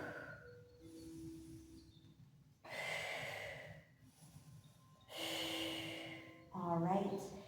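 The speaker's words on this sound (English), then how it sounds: "Breathing deeply." Slow, deep breaths during a guided yoga practice, long airy inhales and exhales in a quiet room, each breath swelling and fading in a steady rhythm.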